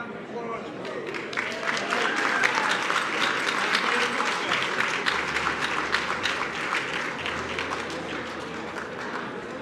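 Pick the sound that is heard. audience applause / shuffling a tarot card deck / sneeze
audience applause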